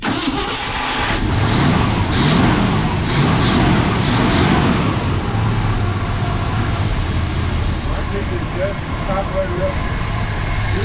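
A 1968 Ford F100 Ranger truck engine cranks and catches, then runs at a steady, rough idle up close, with people talking over it throughout.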